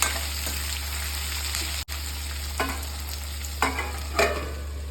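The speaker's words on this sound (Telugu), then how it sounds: "సన్నగా తరిగిన ఉల్లిపాయ వేసాను నాలుగు పచ్చిమిర్చి ఇవి బాగా వేగాలి" Sliced onion and four green chillies fry in a pan with a steady, close sizzle, and a spatula makes a few scraping stirs over a low constant hum.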